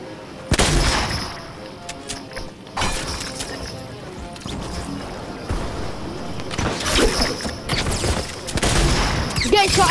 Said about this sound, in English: I'm getting shot everywhere.